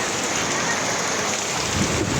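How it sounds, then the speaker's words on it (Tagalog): Heavy rain pours down steadily and loudly in a sudden downpour, a dense unbroken roar of drops on surfaces with no distinct thunderclap and no talk. "Grabe, ang lakas nitong ulan na to."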